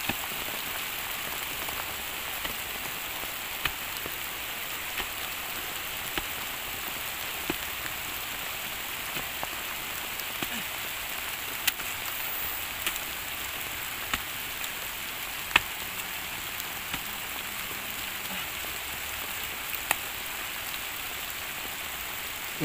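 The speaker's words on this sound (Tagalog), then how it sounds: "Ang lakas ng ulan." Heavy rain pours down in a dense, constant hiss on surfaces nearby, with scattered sharper drops ticking through the steady wash and no voices.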